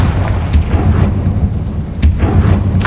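Confringo blasting spell explosions in the game Hogwarts Legacy, heavy booming impacts with sharp cracks at two points over a continuous low rumble, loud and close.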